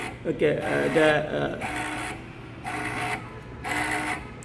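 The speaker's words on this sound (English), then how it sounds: "again the flywheel rotates for another half a second" A stepper motor spinning a flywheel gives short bursts of whirring, buzzing tone with a steady low hum underneath, the bursts repeating about once a second as the wheel spins up and runs on; a voice talks over the first part.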